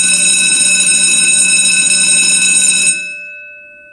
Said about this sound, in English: When the school bell rang, they raced inside.